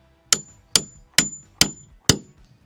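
A hammer drives a steel beam puller into timber beams on a cabin build: five sharp, ringing strikes, evenly spaced and close, each with a short metallic ring.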